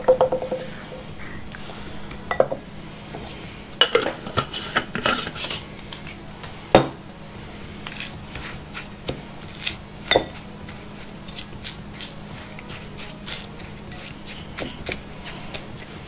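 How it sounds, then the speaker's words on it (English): Crushed cookies and melted butter are stirred together in a bowl with repeated scraping and clinking of a utensil against the bowl, an irregular, close rhythm with a few sharper knocks. "took my 8 cookies and about a tablespoon of melted butter and combine them into a bowl"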